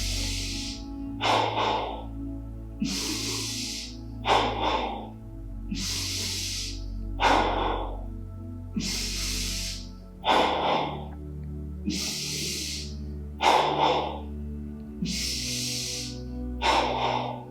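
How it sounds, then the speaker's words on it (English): Deep, forceful breaths during guided yoga breathwork repeat in a steady rhythm, each rushing inhale and exhale loud and close, with soft background music underneath. "So, 30 breaths, second round, 10 in the belly to begin."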